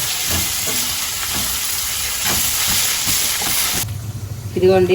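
Ingredients frying in a pan for tamarind pulihora, with curry leaves among them: a loud, continuous sizzle and hiss that drops away near the end, where a voice speaks briefly.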